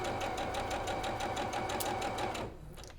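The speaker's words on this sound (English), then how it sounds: "So let's just start stitching." A sewing machine stitches a flying geese zig zag quilt block in a fast, steady run of needle strokes, loud and close, stopping abruptly near the end.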